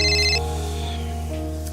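Mobile phone ringtone ringing, a loud steady electronic tone with layered sustained notes, continuing throughout with no talk over it.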